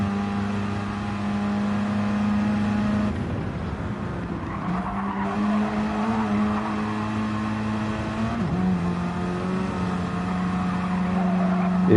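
A Mazda Gr.4 race car in a racing video game roars at sustained high revs around Trial Mountain, its steady engine tone wavering and shifting pitch through gear changes, loud and continuous with no talk over it.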